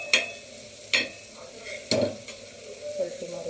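Prawns and potato fry with a soft sizzle in a pan. A spatula stirs and flips them, making a few distinct scraping clinks about a second apart, with quieter stirring in between.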